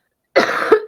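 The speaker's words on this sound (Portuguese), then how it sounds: "desculpa, se eu tossir um pouquinho" A single short, close cough from a woman recovering from illness, harsh and breathy, with a second catch at the end of the burst.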